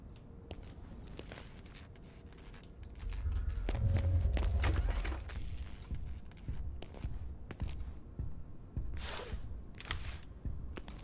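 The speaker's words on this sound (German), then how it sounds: "oben sind Schritte" Footsteps on an upper floor in the video game Industria, faint and muffled, a soft uneven patter rising briefly louder in the middle over a low background hum.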